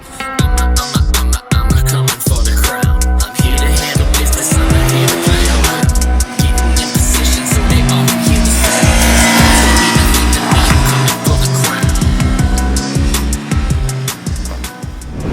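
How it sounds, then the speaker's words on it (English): A 2022 KTM RC 200 motorcycle ridden hard on a race track, its loud close engine revving up and down through repeated gear shifts, with rising and falling pitch throughout. "We are riding it right now, going all guns blazing on the KTM Shackle track."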